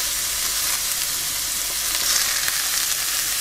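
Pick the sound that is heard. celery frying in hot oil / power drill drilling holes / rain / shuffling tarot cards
celery frying in hot oil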